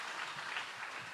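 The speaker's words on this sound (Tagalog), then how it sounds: "Malakas na palakpak para sa mahal na Panginoon." Congregation applauding for the Lord during a church preaching service, a steady wash of clapping from many hands that holds at an even, moderate level for the whole short stretch.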